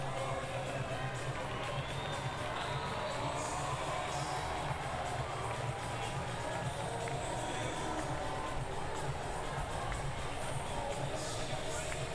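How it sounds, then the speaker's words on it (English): A judo arena crowd at a Paralympic Games event cheers in a steady, distant-sounding wash of voices and hubbub that holds at an even level throughout, with no single shout standing out. "the crowd absolutely loving that"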